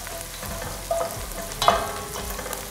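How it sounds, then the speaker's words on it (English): Vegetables for a vegetable sauce sizzle and fry in a pan, a steady close crackle broken by a couple of brief clinks and stirring scrapes, with no talking. "saute this for a minute."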